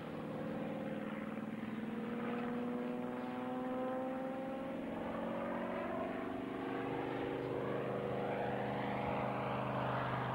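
A propeller agricultural aircraft drones overhead in a low pass, a steady loud engine hum with shifting pitch as it passes, no one speaking.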